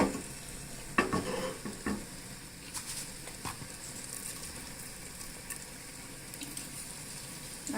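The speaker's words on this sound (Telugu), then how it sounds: "ఇందులోనే కొంచెం జీలకర్ర ఆవాలు తీసేసుకుంటున్నాను. ఈ విధంగా ఇవి చక్కగా వేగనివ్వాలి." Cumin and mustard seeds frying in a little hot oil, a soft steady sizzle broken by a few spoon knocks and scrapes near the start, quiet and close.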